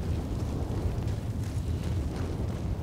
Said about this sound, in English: Fire tornado warning, that's what's going on.